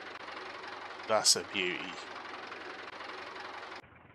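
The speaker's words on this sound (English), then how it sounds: "That is a very nice little tractor." A small tractor's engine idles at an agricultural auction, a steady close mechanical knocking throughout, with a person briefly speaking over it.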